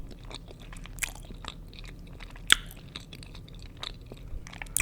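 Close, quiet chewing and biting on a moist vegan Puerto Rican cake topped with a cherry, with soft mouth sounds, a few crisp bites and one sharper crunch, no talking.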